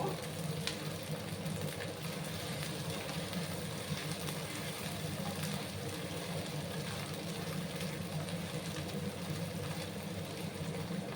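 Ginger and garlic paste sautéing in a pan, a steady, faint sizzle running on without a break.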